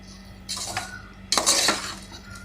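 Roasted rice being stirred into gravy in a pot for channa biryani, with two short scraping, clinking strokes of a metal spoon against the pot, close and moderately loud.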